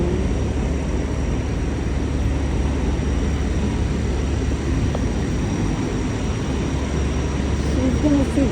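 An airplane flies overhead with a steady, loud, continuous engine roar that fills the whole stretch and barely changes in level. A faint voice sits underneath it.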